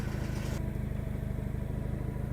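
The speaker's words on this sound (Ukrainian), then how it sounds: "Виїжджає до нас наступна модель Kubota B72." A 16.5-horsepower Kubota B72 compact tractor driving out, its small engine chugging in a steady rapid low rhythm close by, with a brief hiss at the start and no talk.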